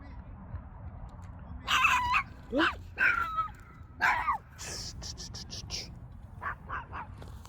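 Several dogs barking and yipping at a distance, short sharp barks in irregular bursts with a steady low hum underneath.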